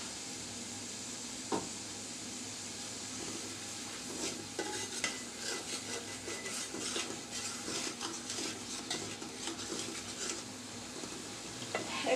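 Spices are sautéed in a pan for a bata fish curry with cauliflower, with steady low sizzling and repeated spoon scrapes and clinks against the pan, close and fairly quiet, with no talking.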